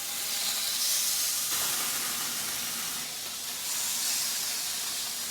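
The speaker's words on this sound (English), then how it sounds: "So now I'm just going to put some of these on here and let these cook." Ginger chicken pieces sizzle on a hot grill, giving a steady hiss that swells and eases in waves with no talking.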